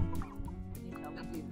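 Backyard fowl call out close by in a short burst of rapid, throaty gobbling and clucking, loud and layered with overlapping voices.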